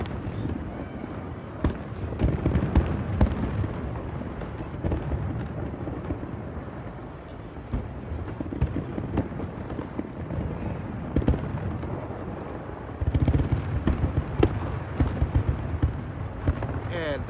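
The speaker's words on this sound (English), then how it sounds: "That's the last of the fireworks coming up." New Year fireworks finale over San Francisco, a string of sharp booms and crackling bursts, some fairly loud and others distant, with crowd chatter and voices talking throughout.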